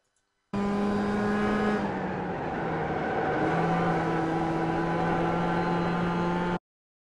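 Mazda Miata Roadster race car engine held on the throttle in the iRacing video game at Lime Rock Park, a steady buzzing drone whose pitch shifts once partway through, continuous and loud with no talk.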